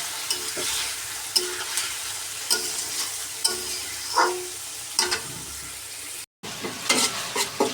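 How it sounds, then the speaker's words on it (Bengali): Onions fry with salt in a pan, a close, constant sizzle punctuated by intermittent scraping and knocking of a spatula against the metal, with one brief dropout of sound and no voices. "লবণ দিয়ে পেঁয়াজটাকে ভেজে নেব।"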